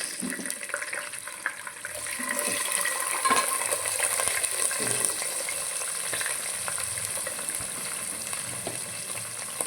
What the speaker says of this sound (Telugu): ఆనియన్స్ వేసుకున్నాం వేగినాయి కదండి